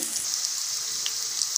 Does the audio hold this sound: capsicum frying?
yes